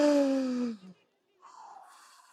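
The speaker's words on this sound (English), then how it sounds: "Mouth breathing." Deep mouth breathing: one long, audible exhale with a voiced, sighing edge, a brief pause, then a softer, airy inhale drawn in through the mouth, close and intimate.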